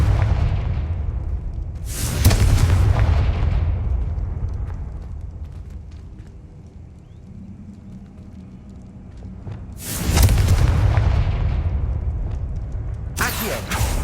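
Confringo fire spell explosions in Hogwarts Legacy, three loud booming blasts a few seconds apart, each with a rumbling tail that fades out.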